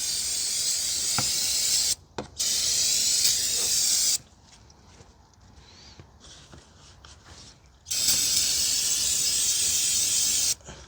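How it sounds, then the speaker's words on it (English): Brake cleaner sprays from an aerosol can onto the brake area of a 2019 Honda Civic 2.0, in two loud sustained hissing bursts with a brief break, a quieter stretch of handling between them. "grab a can of some brake cleaner, clean down the area"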